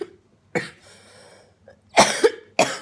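Harsh coughing from a person, several sharp bursts: one cough, a short pause with faint breathy sounds, then two quick coughs followed by another, close and loud.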